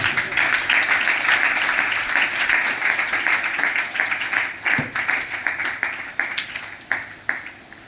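A church congregation claps during a sermon, starting as full, steady applause that thins into separate, spaced claps before fading out.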